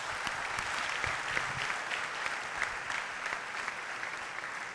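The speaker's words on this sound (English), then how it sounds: "and a huge round of applause for him." An audience claps in a large hall, a dense, sustained round of applause that holds steady throughout without voices over it.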